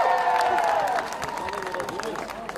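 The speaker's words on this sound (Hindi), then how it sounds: "जोरदार तालियां" Strong applause from an audience at a patriotic film event in the Jaisalmer desert, welcoming actor Aahan Shetty; dense clapping and crowd noise swell loudly at first, then settle into a steady, slightly softer wash, with a sustained musical tone underneath early on.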